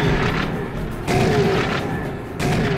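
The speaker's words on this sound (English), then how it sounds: "Oh, baby, look at this shotgun." Shotgun blasts in the video game Serious Sam, three heavy booming shots roughly a second apart, loud and close, each with a rumbling tail.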